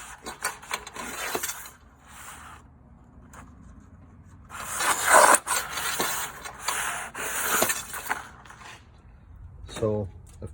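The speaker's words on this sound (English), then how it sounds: "So we're going to feed that wire through the back there." Baling wire being fed through the back of a cardboard baler, intermittent close scraping, rattling and metallic rubbing in bursts with quiet gaps, a person talking between the sounds.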